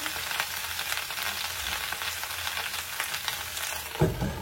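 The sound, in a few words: potatoes frying in a pan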